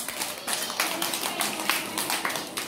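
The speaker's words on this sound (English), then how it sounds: "All of you clap for Ilvan." A group of children claps together, a rapid, uneven patter of many small hands that carries on steadily for a few seconds.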